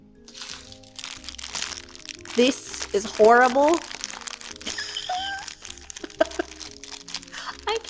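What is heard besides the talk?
plastic bag crinkling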